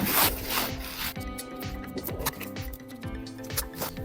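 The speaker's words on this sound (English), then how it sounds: "You've got the idler with a 16mm nut. Just need to take that off." A 16mm nut being worked off the idler pulley on a Peugeot Expert during a cambelt job, giving a steady close metallic rasping and ratcheting with a regular clicking rhythm, no talking.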